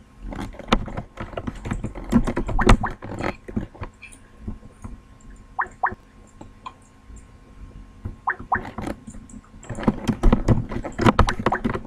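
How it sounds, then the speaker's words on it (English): Computer keyboard typing in bursts of quick clicks, loudest at the start and end, with a quieter stretch in the middle holding a few faint tones. "I'll type it in chat."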